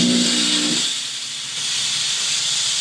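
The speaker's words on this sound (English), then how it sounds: "press down on the foot pedal and it's going to instantly pump in water into that heating chamber and vaporize it and spray it out that nozzle" A Silver Dragon jewelry steam cleaner blasts hot steam from its nozzle at up to 125 psi, a loud, steady broadband hiss that continues without pause after a brief low hum fades at the start.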